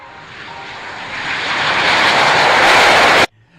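An Avro Vulcan jet aircraft on its takeoff run, probably in a flight simulator: a loud, broad engine roar building steadily over about three seconds, then cutting off abruptly.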